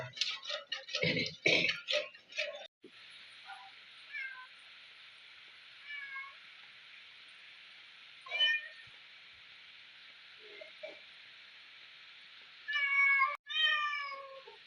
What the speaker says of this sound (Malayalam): പൂച്ചയിരുന്ന് കരയുന്നുണ്ടേ